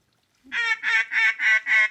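Duck quacking at a mallard hunt, five loud nasal quacks in an even rhythm, close and clear against silence.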